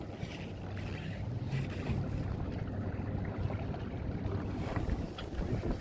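A sailboat running under spinnaker produces a continuous rush of wind and water against the hull, with steady low rumble and gusty microphone buffeting and no voices.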